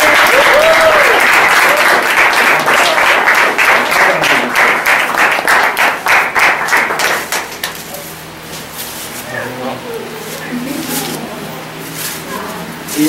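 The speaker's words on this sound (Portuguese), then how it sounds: "Salve de palmas." Applause at a Brazilian temple celebration: a loud crowd claps in a steady rhythmic beat, in time together, then the clapping breaks off and gives way to people talking and softer scattered sounds.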